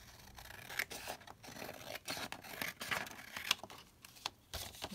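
Close, crisp snips of scissors cutting paper for a junk journal, several irregular cuts with light paper rustling between them, fairly quiet and with no speech.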